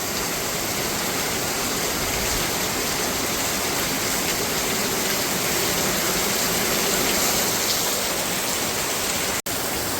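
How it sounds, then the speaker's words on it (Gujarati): Heavy rain drums on metal roof sheets in a dense, loud, unbroken hiss that holds steady throughout. "જે ઉપર પતરા નાખેલા છે એની ઉપર પાણી પડે ને વરસાદનું એક તેનો અવાજ છૂટ્યો"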